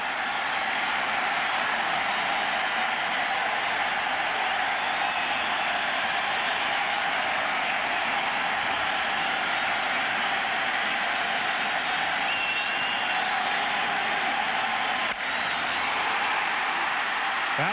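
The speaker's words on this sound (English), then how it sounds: "The crowd's back." A large baseball crowd at a Yankees–Red Sox game at Boston roars in a continuous, dense wash of cheering that holds loud and steady throughout.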